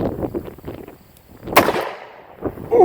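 Single heavy shot from a Colt Trooper Mk3 .357 Magnum revolver, an older used gun, cracking out loud and close after a stretch of quiet, with someone speaking just before it.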